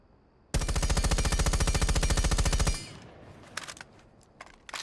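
Rapid automatic gunfire from a Fuze weapon fitted with a compensator in Rainbow Six Siege, a loud sustained burst of about two seconds with dense even shots, then quieter scattered game noises and a few faint clicks.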